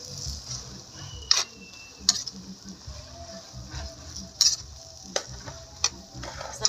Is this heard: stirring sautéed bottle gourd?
yes